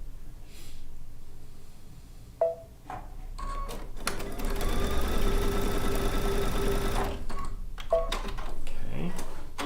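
A sewing machine runs in one steady stretch of several seconds, stitching quilt pieces together, framed by brief clicks and handling noises before and after.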